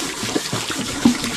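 Tap water runs and splashes at a sink where pots and pans are being washed, a steady close trickle with a couple of louder splashes.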